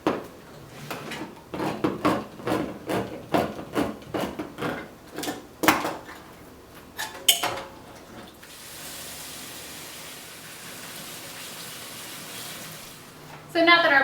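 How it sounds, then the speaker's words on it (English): Canned black beans being drained and rinsed, beginning with a run of sharp metallic taps and clanks from the can and colander, then a steady hiss of running tap water at the sink, with a clatter at the end. "So now that our black beans are rinsed"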